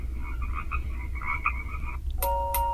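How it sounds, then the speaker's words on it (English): Frogs croak in a quick pulsing series played by an alarm clock over a low background hum, followed by two bright electronic beeps near the end. "You got your frogs"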